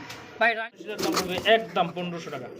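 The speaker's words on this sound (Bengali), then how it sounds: "স্প্যানিশ পটারের কবুতরের বাচ্চাই দুটো" Spanish pouter pigeon chicks give short, close cooing calls, mixed in with someone talking nearby.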